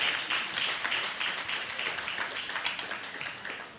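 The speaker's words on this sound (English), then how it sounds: "Please give a round of applause." Audience applause at a professional conference, a quiet, fairly distant patter of many hands clapping steadily throughout, fading slightly toward the end.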